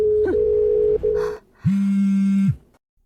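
A telephone tone sounds right after a call is hung up, a steady beep broken by short gaps, then a lower sustained tone for about a second before it cuts off to silence.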